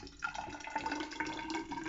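Ultrapure deionized water poured into a laboratory measuring container, a soft, faint trickling with light gurgles running continuously and alone.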